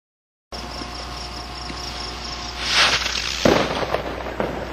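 Backyard fireworks crackle and fizz close by, building to a loud whooshing burst and a sharp bang, with faint insect-like chirping in the background.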